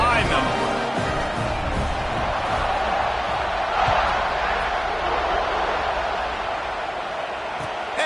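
A packed stadium crowd at a Washington vs. Georgia college football game roars steadily just before kickoff, a dense, loud, continuous cheer with no pauses.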